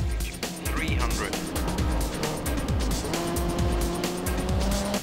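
A rally car races at speed in a video game, its engine roaring loud and close with rising and falling revs, a tire squeal and passing rush, while a voice speaks over the action.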